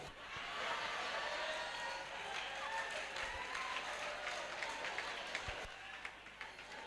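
An assembly applauds and cheers Angelo: steady, dense clapping from a large crowd fills the room at an even level throughout, with faint voices mixed underneath.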